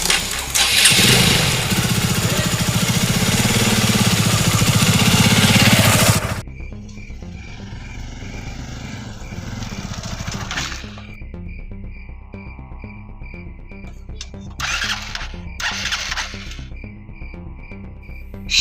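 A motorcycle engine fires up with a loud, rough roar for several seconds, then drops to a quieter, uneven idle broken by short revs.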